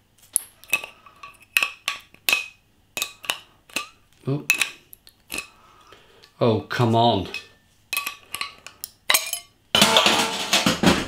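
Pouring a Kinn Bryggeri Svartekunst foreign extra double imperial Russian export stout into a large shaped pint glass: a run of sharp glassy clinks and knocks, one brief glugging pour, then a loud fizzing foam burst near the end, with a short spoken remark.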